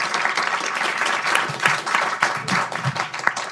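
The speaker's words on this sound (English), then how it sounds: "could you please join me in applauding to all the panelists?" An audience applauding the panelists at the close of a climate and trade policy forum, a steady burst of many hands clapping close by for several seconds with no talk over it.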